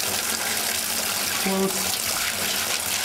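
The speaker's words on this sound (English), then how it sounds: "Now I'm gonna turn some water on." Tap water runs steadily into a container to cool a brew over ice, a moderately loud continuous splash, with a brief spoken word over it.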